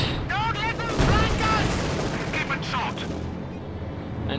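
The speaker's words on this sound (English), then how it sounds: "Heavy mortar doing alright." Heavy mortar and gunfire in the Company of Heroes 2 World War II strategy game, a dense spread of booms and rattling shots under a voice as he talks over the battle.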